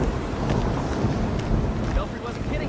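Howling storm wind in a video game, a loud, gusting roar with low rumbling, buffeting and occasional whistling tones, continuous throughout, with a voice faintly mixed in.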